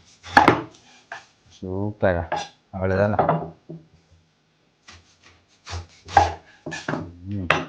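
Pineapple being cut with a kitchen knife, a few dull chopping and scraping knocks mixed in among people talking in Tamil, close and moderately loud.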